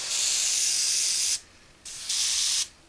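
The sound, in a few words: spray painting a model ship hull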